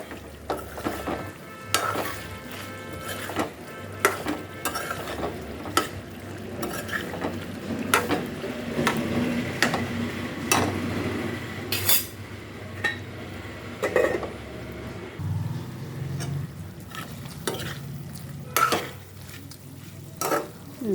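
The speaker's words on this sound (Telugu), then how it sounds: "ఫ్రై అయితే ఇదండి." Chicken fry sizzles steadily in a pan while a utensil stirs it, with frequent scrapes and clinks against the metal over a continuous frying hiss.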